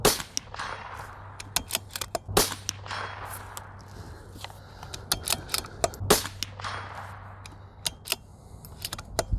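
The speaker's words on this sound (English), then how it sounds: "Let's shoot steel again." Shots from a CZ 457 Varmint precision-chassis rifle ring off steel targets, a string of sharp cracks and metallic pings at irregular intervals, with two louder blasts standing out over a low steady hum.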